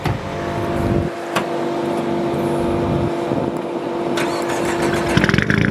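A rally car engine runs close by at a steady idle-like drone, then builds toward a louder, rougher rev near the end. No speech is heard over it.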